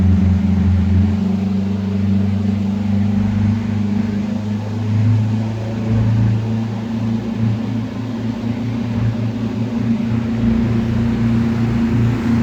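Aboard a Hatteras yacht, the engine runs steadily at 1,800 RPM against the current, a continuous low rumbling hum that holds even and close for the whole stretch.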